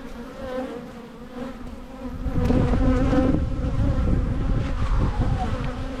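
Honey bees swarm and buzz around an open hive, a dense, steady drone that swells louder after a couple of seconds and holds close and continuous.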